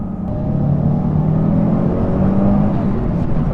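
A Mitsubishi Evo V or VI drives along with its engine droning and revving in a steady, loud rumble heard close up and alone throughout.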